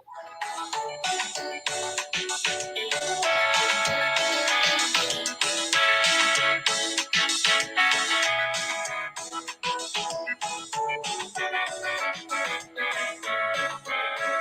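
A calypso song played back from a phone, tinny and moderately quiet, with a steady rhythmic accompaniment and melodic singing running continuously throughout.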